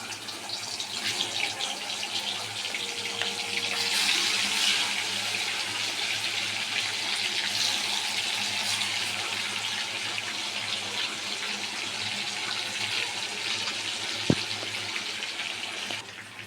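Chicken 65 pieces fry in hot oil with a steady, even sizzle and hiss throughout, with one sharp pop near the end.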